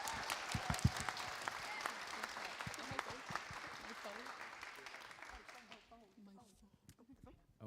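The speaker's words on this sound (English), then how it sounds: "a clap for my team" An audience claps for an animation team at a livestreamed student presentation, with steady applause filling the room and fading out near the end as voices start to come through.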